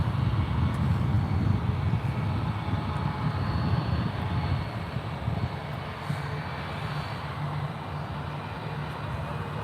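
An American airliner takes off from runway 1 left at SFO, its engines a broad, steady roar that holds throughout and eases slightly toward the end, heard from a distance with no talk.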